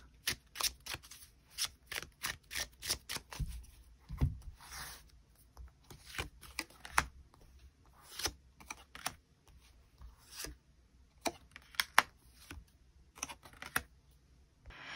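Tarot cards being shuffled and drawn for an extra card, a long run of close, crisp riffling and slapping bursts in an irregular rhythm, heard alone without talk.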